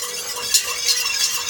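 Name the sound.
stirring elderberry jelly in a pot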